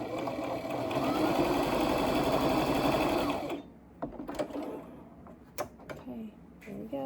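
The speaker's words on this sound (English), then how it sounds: "we're going to sew over about 1/4 of an inch down" A sewing machine runs steadily for several seconds, stitching quilt pieces for a double wedding ring quilt, then stops, leaving soft clicks and handling of fabric.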